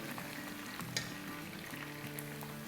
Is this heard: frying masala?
yes